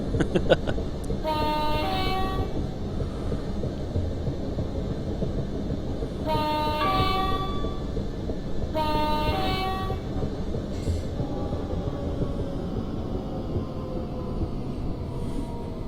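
Class 378 train running on the South London Network in Train Simulator, a steady rolling rail rumble with repeated two-tone horn toots in several separate bursts, loud and close.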